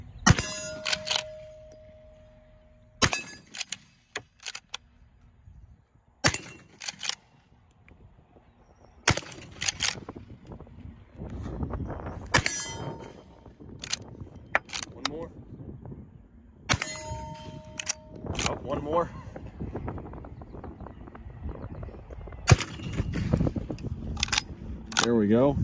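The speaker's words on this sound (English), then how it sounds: "let's put some rounds on target here" A Winchester 1892 rifle fires black powder rounds at a target, with several loud sharp shots spaced a few seconds apart, metallic action clanks between them and talking in the gaps.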